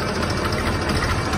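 A tractor engine idles steadily and loudly after being started with its self-starter, a dense continuous rumble with no voices.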